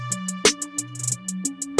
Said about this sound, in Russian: Вот такой паттерн хай-хетов.